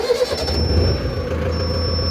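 A Mahindra NOVO 605 DI 60 HP 4WD tractor engine idles steadily, a close, continuous low rumble with a faint high whine running throughout.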